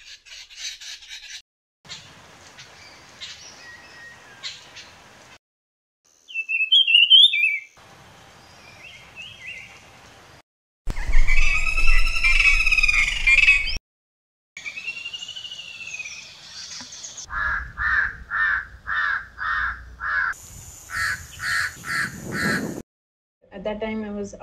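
A greater racket-tailed drongo mimicking other birds' calls in a string of varied phrases: harsh crow-like caws, sweet whistles, then a run of rhythmic repeated notes, each burst separated by short silences.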